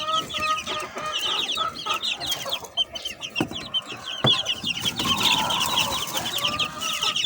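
Several chickens cluck and chatter busily close by while feeding, with soft pecking and rustling underneath and an occasional louder squawk.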